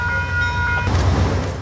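A train rolls into a station, a low rumble of wheels and cars with a brief high tonal whine fading early, steady and fairly close, no talking.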